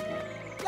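A single short frog croak, a low buzzing call from a frog in the video game It Takes Two, heard briefly and alone.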